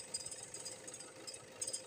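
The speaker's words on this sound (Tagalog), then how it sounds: "buhay na ang makina niyan" Toyota Fortuner engine idling, heard as a faint, steady low hum with a light rattle, unchanging across the short moment.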